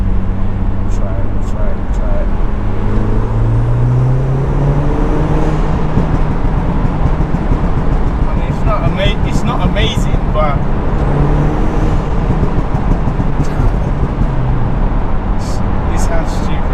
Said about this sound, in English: Do you guys want to hear the pop and bangs if it works?